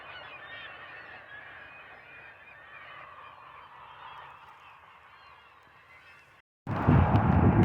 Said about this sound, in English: lots and lots of birds just flying around kind of in a tornado shape up there